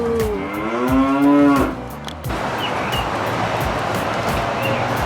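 A cow lows on a dairy farm, one long drawn-out moo rising and bending in pitch for about two seconds, loud and close, followed by a steady rushing outdoor noise.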